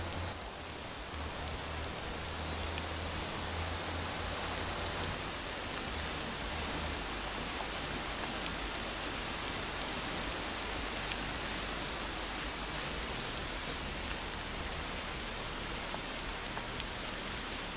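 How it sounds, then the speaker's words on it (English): Steady rain pours throughout a drive in the video game Motor Town, a dense even hiss of drops on surfaces with a faint low rumble beneath, constant and unbroken with no voices. "And it's raining."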